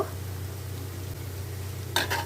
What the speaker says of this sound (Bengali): তো এভাবে সমস্ত বড়াগুলোকে আমি তেলের মধ্যে ছেড়ে দেব।